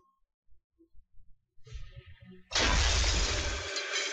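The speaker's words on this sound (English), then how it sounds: "Okay, so a Shatter." Shatter spell effect in the PoxNora card battle game: a few soft low knocks and a rising rumble, then a loud bright crash of breaking glass that rings on and fades.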